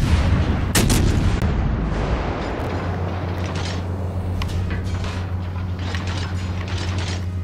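Warship guns fire in World of Warships Legends, a naval video game: one sharp, loud cannon blast rolls into a low, steady engine drone that hums on alone.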